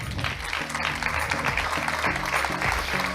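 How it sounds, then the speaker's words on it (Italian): Applause from the audience at the Miss Italia Calabria 2024 pageant in Stalettì, a dense, loud clapping that continues for a few seconds, with music playing underneath. "Quindi un grandissimo applauso ad Elia Diaco."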